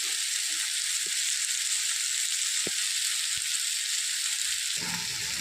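Water lily stems (shapla) fry in a pan with a steady, close sizzle that runs the whole time, broken by a few faint knocks and stirring scrapes near the end.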